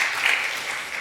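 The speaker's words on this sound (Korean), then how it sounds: "박수 한번 우리 확실히" Congregation applause during a Sunday church worship service, a brief, dense burst of many hands clapping together, steady and fairly loud for its single second.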